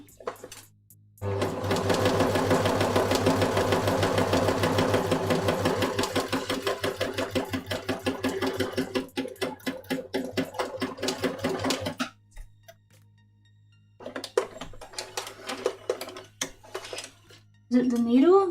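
A sewing machine stitches steadily for about ten seconds with an odd, rhythmic knocking running through its hum, then stops. After a pause it starts again in a shorter burst.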